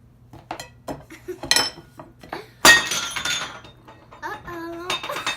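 A favorite glass bowl breaks with a sharp crash and tinkling shards, standing out loudly over faint kitchen clatter of dishes and cutlery while people chew and snack nearby.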